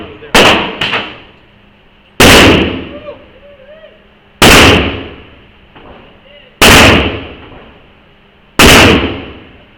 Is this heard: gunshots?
yes